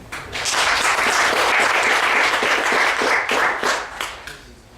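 Colloquium audience applauds themselves in a conference hall, a full round of clapping that swells quickly, holds steady, then thins into scattered final claps and fades.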